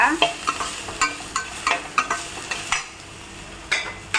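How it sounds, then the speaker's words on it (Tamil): Pirandai greens being stirred and sautéed in a pan, with steady sizzling under repeated scraping strokes of a spoon against the metal, close and fairly loud with no talking. "இது கீரை வேகுதுங்க."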